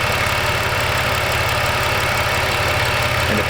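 A Dodge Caravan minivan's engine runs at a steady, loud idle with a rough, slightly knocking pulse throughout as the transmission is shifted into gear, no voices over it.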